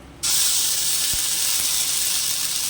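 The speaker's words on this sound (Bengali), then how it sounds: "এবার দিয়ে দেবো বেটে রাখা কচু" Ground taro paste hits hot mustard oil with a sudden loud, steady sizzle and steam hiss that continues evenly, with no voices.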